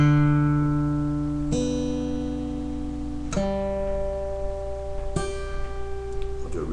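Acoustic guitar played with a slow Travis picking pattern, thumb and middle finger alternating; a few clear plucked notes ring out one at a time, fairly quiet and close, with no talk.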